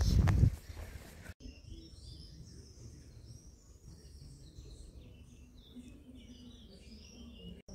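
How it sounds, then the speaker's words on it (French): Birds chirping and singing outdoors in Chinon, France, scattered faint high calls over a quiet background of soft ambient noise after a brief loud knock at the start. "J'adore le langage des oiseaux."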